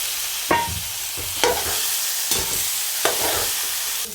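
Boiled lote fish and taro being stir-fried together for a crispy fish-and-taro dish: steady pan sizzle broken by four or five spatula scrapes at roughly even intervals, close and fairly loud, with no voices.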